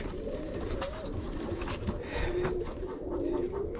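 Pigeons coo softly and continuously in a loft holding young and older birds, a steady low burbling layered with occasional brief higher calls, fairly close and alone without talk.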